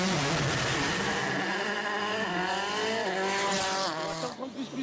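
A Citroën World Rally Championship car at full attack on a stage of the 2009 Cyprus Rally, its engine roaring loud and close with rising and falling revs through gear changes, then easing off at the end.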